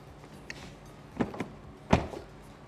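Electric deployable side steps on a 2023 Range Rover Sport 4.4 V8 P530 First Edition moving, a few short mechanical whirs and clunks close by, with quiet pauses between them.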